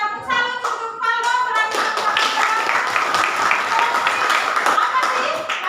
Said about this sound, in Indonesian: Tepuk salut untuk Faldo.